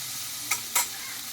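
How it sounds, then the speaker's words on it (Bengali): Chana dal cooked down with spices in a pan: a soft, steady frying hiss with two short scraping stir strokes, close and alone. "ছোলার ডালটা আমি ভালোভাবে কষিয়ে নিয়েছি মশলার সঙ্গে"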